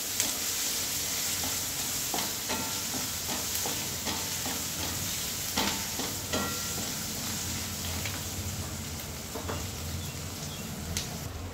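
Onions with salt being stirred in a pan, a steady close sizzle under repeated scraping strokes of a spoon against the metal, no voices.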